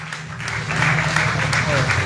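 Crowd applause for a contestant at the Faridabad Talent Hunt 2025 grand final at Asian Hospital, dense clapping swelling and holding steady over a couple of seconds while a voice speaks over a loudspeaker.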